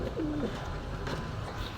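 Pigeons at a bird shop give a single soft coo close by, then only low background noise remains.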